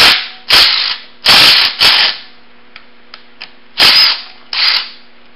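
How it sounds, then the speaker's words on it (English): An impact wrench with a 14 mm socket removes the center flywheel bolt on an ATC 110 engine, giving five loud, sharp rattling bursts of about half a second each, separated by quiet gaps and a few faint clicks. "now I'll take the center flywheel bolt off with a 14 millimeter socket"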